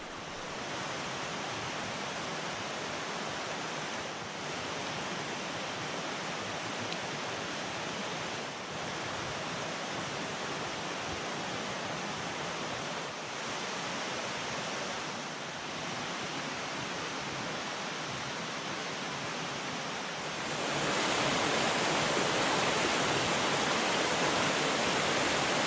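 A river in Nantahala National Forest rushes steadily and close, a dense, even wash of water noise that grows slightly louder near the end, with no voices.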